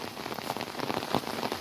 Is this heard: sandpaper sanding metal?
no